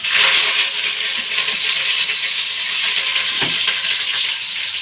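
Onions and curry leaves fry in a pan as the base for fish curry, producing a close, constant sizzling hiss with a few soft stirring knocks.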